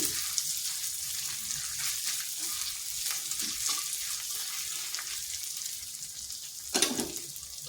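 A spice mix fries in hot oil for a vegetarian bottle gourd curry, giving a steady close sizzle with light stirring and a brief clatter near the end.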